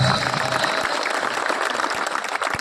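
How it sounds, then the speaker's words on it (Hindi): Loud, continuous applause from an outdoor crowd at a Vishva Hindu Parishad and Bajrang Dal rally in Sujangarh, a steady wash of clapping with a few sharp low thumps and faint voices mixed in. "एक बार तालियां बजाइए अपने राष्ट्र के नाम की जोरदार।"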